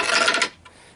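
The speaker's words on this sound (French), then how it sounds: "En faisant bien attention de venir gratter toute la propolis qui se trouve à ce niveau-là" Propolis is scraped off a wooden beehive body in one short, raspy stroke lasting about half a second, followed by quiet.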